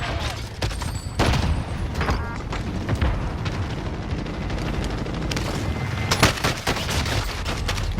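Rapid gunfire from an AUG and other weapons in a shooting video game, crackling in dense bursts across the whole stretch with a few sharper loud shots standing out.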